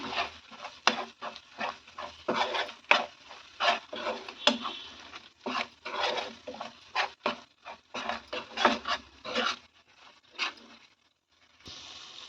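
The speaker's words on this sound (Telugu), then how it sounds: "ధనియాల పౌడర్ వేసి మంచిగా మిక్స్ చేసుకోవాలి" A spoon stirs cauliflower curry with salt and coriander powder in a pan, making repeated rhythmic scraping strokes up close, then pausing briefly before resuming.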